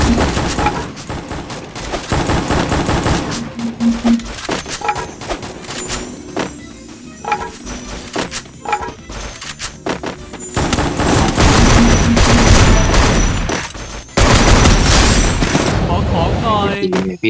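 Sustained automatic gunfire in a video game, a dense barrage of rapid shots and thuds that runs almost without pause, with voices talking over it throughout.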